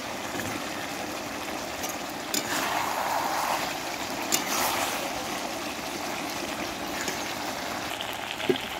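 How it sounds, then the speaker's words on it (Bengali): Hot water poured into a simmering curry gravy in a home kitchen gives a steady hiss and trickle, with bubbling and a few sharp clinks of a utensil, with no one talking. "এই যে গরম জলটা দিয়ে দিচ্ছি"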